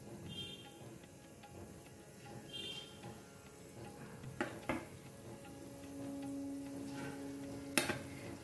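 Tal mohan sweets, small balls of dough, fry in oil over low heat with a soft, steady bubbling sizzle, a few faint clicks and one sharp tap near the end, and no voices.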